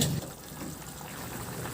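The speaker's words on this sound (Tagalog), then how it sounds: "At maglagay na ako ng tubig." Water pours steadily into a pot of vegetables being cooked for pakbet, a soft, continuous splashing rush at moderate volume.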